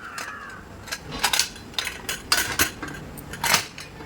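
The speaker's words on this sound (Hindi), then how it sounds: "अब मैं कुकर का ढक्कन लगा देती हूँ।" A pressure cooker lid is fitted on, with a series of close metallic clanks and clicks at irregular intervals in a quiet kitchen.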